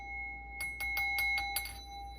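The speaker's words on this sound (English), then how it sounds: "Gotta ring the bell on dragon." A small bell rings in a quick series of about six bright, clear strikes close by, each leaving a short ringing tail over a faint background hum.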